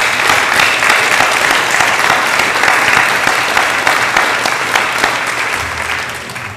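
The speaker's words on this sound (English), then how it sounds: "let's please give them a round of applause for all the work that they did" A seated audience at a 2019 military medical division activation ceremony claps loudly and steadily, a dense wash of applause that tapers slightly toward the end.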